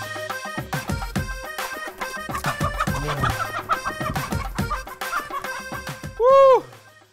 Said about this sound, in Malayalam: എൻ്റെ കയ്യിലിരിക്കുന്നത് ഒരു കറുത്ത കോഴിയല്ലേ, ഇതാണ് കരിങ്കോഴി എന്ന് പറയുന്നത്.